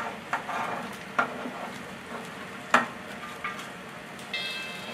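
A pot of salted water with cauliflower florets seethes with a steady bubbling hiss, punctuated by a few sharp clinks and splashes, close and moderately quiet.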